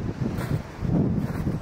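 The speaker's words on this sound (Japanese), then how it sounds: "いやー風強いね。" Strong wind on the Hokkaido coast of the Sea of Japan, a windy stretch lined with wind turbines, roars and buffets in low gusts that swell and ease over a short stretch.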